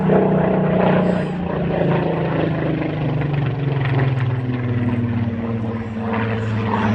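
A combat-veteran propeller aircraft in original RAF squadron markings flies at the Midlands Air Festival, its loud, steady engine drone and propeller hum holding with a slowly shifting pitch as it passes.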